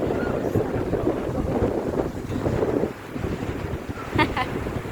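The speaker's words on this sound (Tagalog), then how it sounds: "Hangin kaayo guys, tinapig dagat." Strong wind buffets the microphone at sea off Plaridel, with a steady broadband roar and rushing water throughout, plus brief voice-like bursts near the end.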